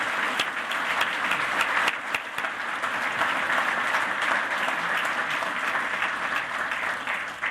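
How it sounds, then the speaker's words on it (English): Audience at an awards dinner giving the board members a big round of applause, dense steady clapping that fills the room at full strength for the whole stretch without a break. "So please give them a huge round of applause."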